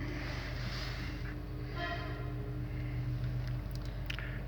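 A high-power frequency inverter drives an electric motor, producing a steady, faint electrical hum with a sustained whine and tonal overtones that hold level throughout the few seconds, with no talking.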